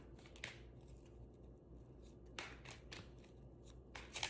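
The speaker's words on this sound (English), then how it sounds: "Let me shuffle a little bit more." Soft shuffling of tarot cards, a steady papery riffle with a few sharper flicks and slaps, close by and quiet, with no talking.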